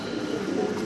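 A fancy pigeon coos softly while held in the hand, a short low throaty murmur that lasts under a second against quiet background noise.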